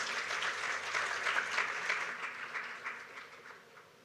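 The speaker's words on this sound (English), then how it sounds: "We can give them a big round of applause one more time to all the panelists" An audience at a campaign launch event claps for the panelists, producing a sustained wash of applause that swells in the middle and tapers off toward the end, with no voices over it.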